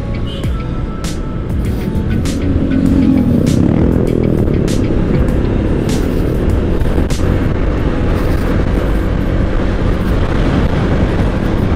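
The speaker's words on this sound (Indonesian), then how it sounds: "Masuki kota wisata Batu macet." Dense traffic jam noise entering the tourist city of Batu, Indonesia, heard from a touring motorcycle: a continuous loud rumble of engines and wind, with occasional sharp clicks and bumps.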